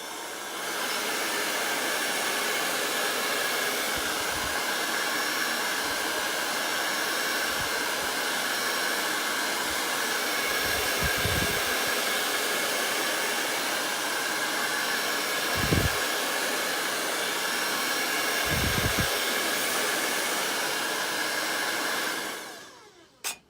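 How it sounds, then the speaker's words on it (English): A hair dryer blows steadily on a handmade craft wreath, a loud continuous whooshing whir with faint bumps and handling knocks beneath, running without talk until it switches off abruptly at the end. "let's hit this with a dryer."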